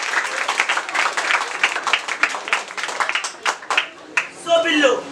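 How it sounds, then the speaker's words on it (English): Audience applause at a felicitation ceremony night, many hands clapping in a dense, lively burst that stays loud throughout, with voices rising in the crowd toward the end. "give a huge round of applause."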